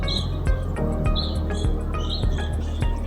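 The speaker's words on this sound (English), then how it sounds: "We also just put up our bird feeders, and wow, are they loud." Many songbirds chirp around newly hung backyard feeders, their sharp, repeated tweets overlapping near and fairly loud, with a steady low hum underneath.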